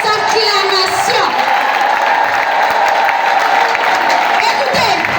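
A worship congregation claps and calls out in acclamation, loud and sustained, with whoops and cheering voices rising over a continuous wall of applause.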